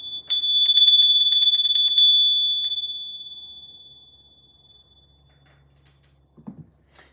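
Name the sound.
bell being rung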